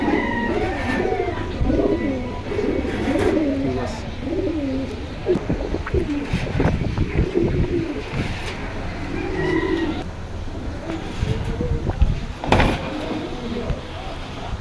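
A jira gola pigeon pair kept among other pigeons at a market stall for sale, with soft repeated cooing mixed with bird calls and someone talking over the birds.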